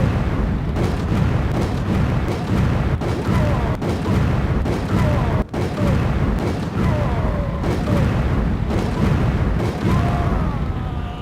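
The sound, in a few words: flame rounds fired at Big Man Majini, Resident Evil 5 video game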